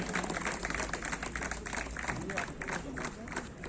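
Clapping from an audience at a founder's day ceremony, where caps and jackets are handed out by the chief guest, a busy, lively patter of many hands with crowd murmur mixed in.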